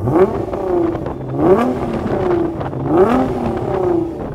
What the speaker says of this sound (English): So that GTR, that's got a tuned exhaust, hasn't it? It's a Litchfield exhaust, right?